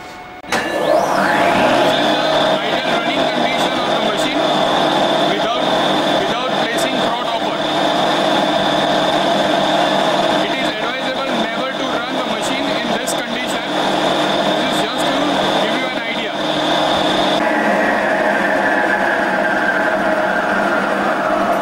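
A comminuting mill pulverizer starts up and then runs continuously with a steady loud mechanical whine and hum, with a tonal shift near the end.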